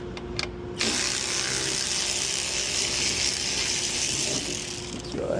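A socket ratchet fitted with a 10mm socket clicks steadily and close by for several seconds while working on a Toyota 4Runner, with a fairly broad, even mechanical rasp and no talk.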